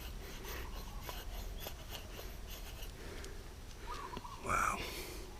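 Sharp convex-ground LT Wright Gen 3 knife carving feather-stick curls from ironwood, soft scraping strokes close up under a steady background hiss, ending in a brief louder scrape.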